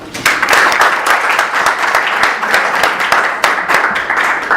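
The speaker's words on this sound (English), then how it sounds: "perhaps we can give him a warm round of applause." An audience at a geography plenary address gives a warm round of applause for a speaker, dense continuous clapping from many hands, loud and close, sustained evenly across the whole stretch.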